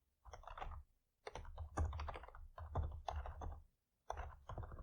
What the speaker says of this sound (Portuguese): eu posso digitar aqui morango, manga, uva e banana